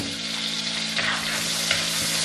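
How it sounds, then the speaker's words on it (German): Butter sizzling steadily in a frying pan as chopped peppers begin to fry, a loud continuous crackle with a low hum underneath. "Ich brate mir erstmal hier so die gehackte Seite an und dann die Paprikaschoten an sich."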